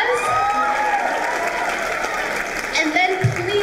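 Audience applause at a school Writers Week session, dense steady clapping from a crowd with voices mixed in throughout.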